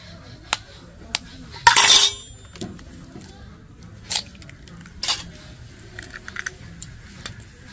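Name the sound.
cracking two eggs into a bowl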